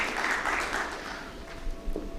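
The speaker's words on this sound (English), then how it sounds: "So give him a big round of applause." Applause from a summit audience swells as a broad wash of clapping, then gradually thins and softens, heard from the middle of a large hall.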